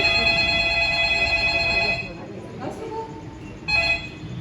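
A telephone rings in a stage play, a loud sustained electronic ring that cuts off, then returns in a short burst near the end.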